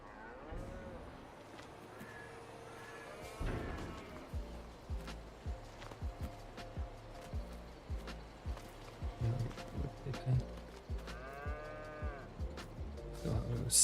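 Cattle in the Farming Simulator 22 video game moo repeatedly at a moderate distance, several long lowing calls over a busy game soundscape with rhythmic thumping footsteps and background farm noise.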